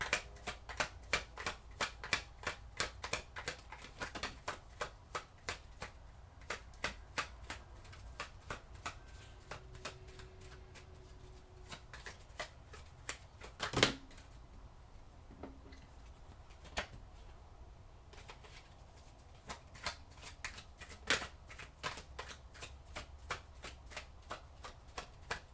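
Tarot cards shuffled by hand, a steady run of crisp close-up flicks and riffles, fairly quiet and uninterrupted, with no voices.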